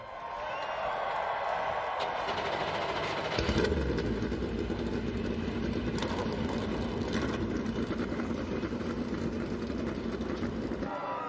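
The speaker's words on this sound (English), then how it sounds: "Drivers, start your engines." NASCAR race car engines fire up together and settle into a loud, rumbling idle, a dense sustained roar with a grandstand crowd faintly in the background.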